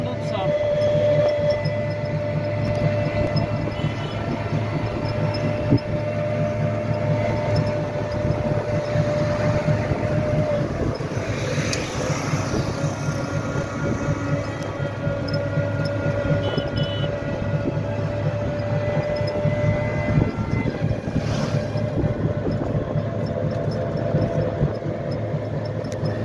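A train rumbles past on the railway with a steady, loud low roar and hum lasting throughout, heard from close by, with voices talking faintly underneath.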